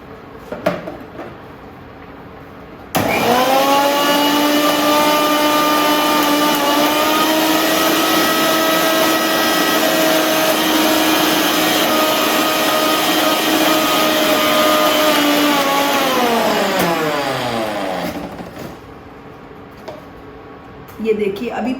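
An electric mixer grinder whirs as it grinds salad dressing ingredients with oil. The steady, loud motor whine runs for about fifteen seconds, then winds down, with brief clatters before and after.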